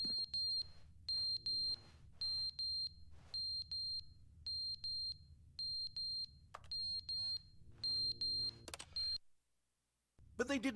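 An alarm clock lying on the floor in The Stanley Parable: Ultra Deluxe beeps in steady repeated bursts of high electronic tones, fairly loud over a low background hum, cutting out near the end.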